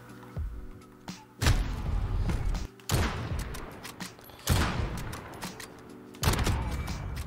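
Kar 98 bolt-action rifle fire in Call of Duty: Modern Warfare, four loud, sharp shots spaced well apart, each with a ringing tail and clicks of the bolt in between.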